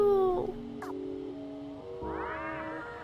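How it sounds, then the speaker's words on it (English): A cat meows in the video game Stray, a short rising call near the end after a brief whining cry, heard fairly close over quiet game music. "my cat meowed"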